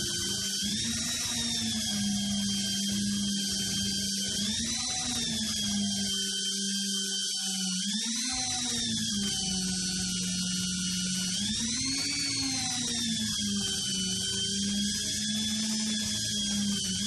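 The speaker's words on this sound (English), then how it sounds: "this is basically just a dry buffing wheel" A dry buffing wheel polishes the frets of a 1974 Ibanez Les Paul, producing a steady, loud motor whine with a humming tone that rises and falls as the wheel is pressed against the metal.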